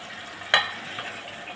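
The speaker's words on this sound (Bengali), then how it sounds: "দিয়ে এটাকে আমি ভালো করে নাড়তে থাকবো" Chilli chicken with tomato sauce, chilli sauce and salt stirred in a pan, a single sharp scrape of the spoon followed by a steady low sizzle.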